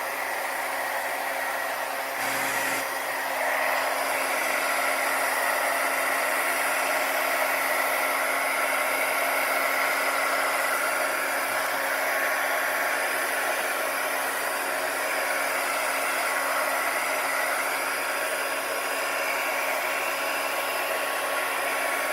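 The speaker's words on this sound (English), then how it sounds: "So I think I'm going to take my heat gun and see what we got." A heat gun blows across a poured painting, making a loud, constant roaring hum that continues for over twenty seconds, close and steady with no talk over it.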